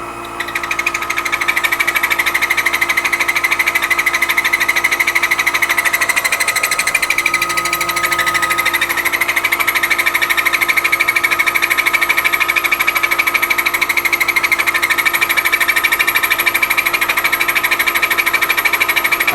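A Black Diamond drill grinder under repair runs slowly at about 360 RPM while material is hand-fed, giving a steady, loud mechanical whir with a constant high whine that holds unbroken for the whole stretch.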